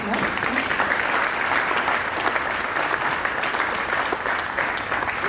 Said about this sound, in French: vous demander de les applaudir